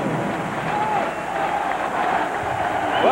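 A boxing crowd at a light heavyweight world title fight roars steadily in an arena after the new champion, Fabrice Tiozzo, is announced, with cheering and applause and voices mixed into the continuous din.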